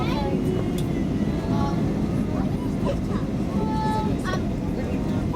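Airliner touching down at Lanzarote airport, a steady rumbling roar of engines and rolling noise heard from inside the cabin, with a child and other passengers talking faintly underneath.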